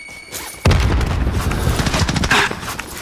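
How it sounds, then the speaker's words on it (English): A grenade blows up in a multiplayer shooter game with a sudden loud boom, followed by a rumbling, crackling tail and scattered gunfire-like pops for several seconds. "Throw a nade."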